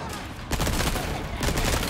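Gunfire from a gun in Resident Evil 4, loud and dense, a rapid volley that fills the whole two seconds with a brief dip partway through.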